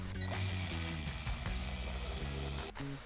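Ratchet undoing the front bumper bolts on a wrecked Mini Countryman, a continuous close mechanical clicking and whirring that runs loudly for about three seconds with a brief dip near the end.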